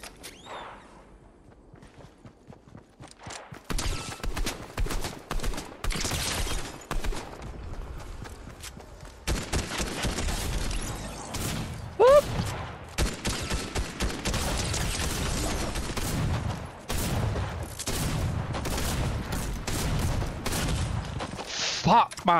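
Shotgun fire in Fortnite during a no-build match, loud repeated blasts and bursts of gunfire amid busy in-game action, with a player talking over the fighting.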